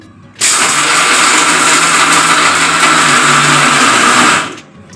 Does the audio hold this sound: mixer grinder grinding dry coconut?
yes